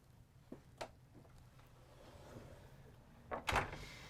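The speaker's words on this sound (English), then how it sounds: "They've also redone this pocket door here. And this is going to close fully to give you lots of privacy in your master bedroom area." A pocket door inside a 2024 Newmar London Aire 4569 RV slides shut, giving a few soft knocks, then a brief rolling slide and a louder thud as it closes in a quiet room.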